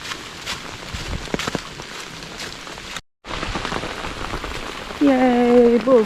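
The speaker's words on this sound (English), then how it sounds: "they decided to start. But we're not far. I can hear the traffic." Rain falls steadily on a hiker's open umbrella along a forest trail section of the Alabama Pinhoti, a close, continuous patter with a brief gap, then a voice speaking near the end.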